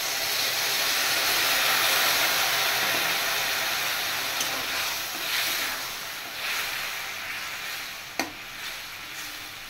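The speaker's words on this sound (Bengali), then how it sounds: "জলটা ফুটে গেছে" Water boiling in a cooking pot with fried dried fish in it, a steady close bubbling hiss and sizzle that swells and fades slightly, with one sharp clink near the end.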